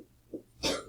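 A single short, sharp sneeze close by, following a brief quiet breathy moment.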